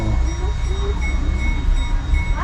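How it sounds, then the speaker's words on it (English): A train rumbles steadily nearby, a low continuous roar of wheels and engine filling the whole stretch, with faint chatter underneath. "So I'm waiting for the train."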